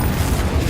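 Confringo spell blast in Hogwarts Legacy, a short, dense, booming explosion rumbling loud and close throughout, with no voices.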